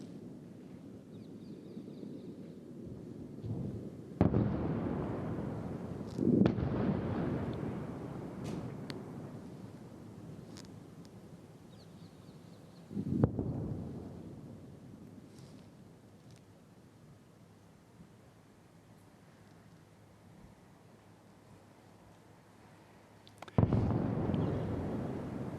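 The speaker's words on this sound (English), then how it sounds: "most intense interceptors or interception that I have seen since the war began" Missile interceptions over Tel Aviv during an Iranian missile barrage, heard as loud explosive booms that come several times with long rumbling tails, alone against a steady outdoor hum.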